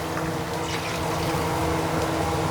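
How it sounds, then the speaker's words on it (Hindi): Water is poured into a simmering curry gravy for raw banana kofta, a steady close rushing, gurgling flow that continues without pause and with no voices. "इसमें ऐड कर देंगे पानी।"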